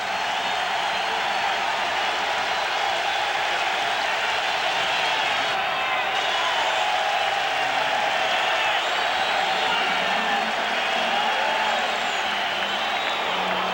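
A big baseball stadium crowd at a Mets vs Yankees game, a steady roaring wall of cheering and clapping that swells slightly at times and never drops.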